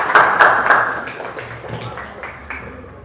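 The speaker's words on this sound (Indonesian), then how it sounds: "Tepuk tangan untuk temannya." Students in a classroom clap for a classmate, a brief burst of applause that fades over a few seconds as a voice talks faintly beneath it.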